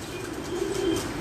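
Pigeons coo softly in a rooftop loft under a canopy, a low steady murmur of cooing with faint wing flutters in the background.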